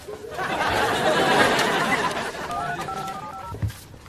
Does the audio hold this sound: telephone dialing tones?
yes